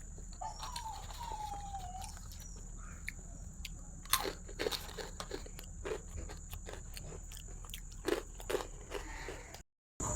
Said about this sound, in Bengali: খাসির মাংস এক পিস নিয়ে একটু টেস্ট করে দেখি।